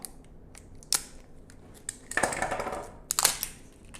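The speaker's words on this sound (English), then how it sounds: "We're going to cut this safety seal off." Scissors cut the plastic safety seal off a jar of Butcher BBQ Sweet BBQ Sauce, giving a few short close snips and a crinkling crunch of plastic in quiet surroundings.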